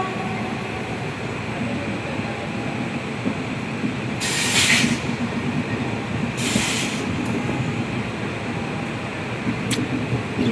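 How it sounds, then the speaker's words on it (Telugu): A train slowing down, heard from on board as a steady, loud rolling rumble with a constant hiss. Two short bursts of brighter noise break in midway, and a sharp tick comes near the end. "ట్రైన్ స్లో అయింది."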